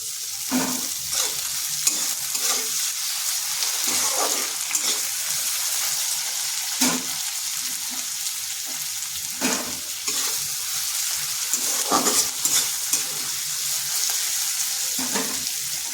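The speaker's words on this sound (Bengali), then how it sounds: "পেঁয়াজটা হালকা ভাজা হয়ে গেছে, দিয়ে দিচ্ছি একটা ছোট সাইজের টমেটো।" Onion and a small tomato fry in oil in a pan for a pointed gourd and potato curry, a continuous close sizzle broken by repeated scraping strokes of a spatula stirring.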